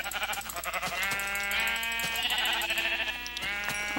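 Sheep in the video game Minecraft bleating: a string of loud, wavering, nasal bleats in quick succession, close and alone with no voices over them.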